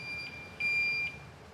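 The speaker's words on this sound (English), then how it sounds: "it's like a beeping, reversing school bus" A school bus reversing beeper gives three short, thin, high beeps, evenly spaced and fairly faint, over a quiet background.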